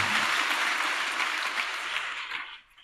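A large audience applauds loudly and steadily, then the clapping thins out and fades away at the end.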